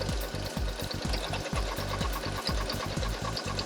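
A sewing machine stitches a half placket, its needle thumping in a fast, steady rhythm throughout, close and continuous with no talking.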